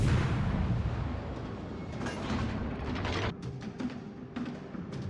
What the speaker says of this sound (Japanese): 砲撃して支援します。